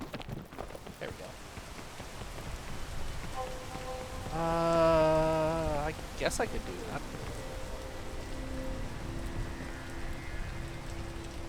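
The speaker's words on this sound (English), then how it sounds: "Yeah, I'll do that once the rain stops." Steady rain falls in a video game, a constant hiss of drops on surfaces throughout, with a person talking over it and a brief musical tone in the middle.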